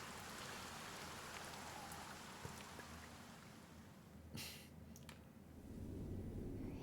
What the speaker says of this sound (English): Lo, the rain doth fall